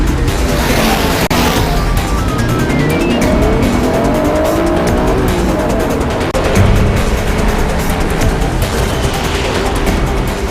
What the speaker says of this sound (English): This race is about to wrap up.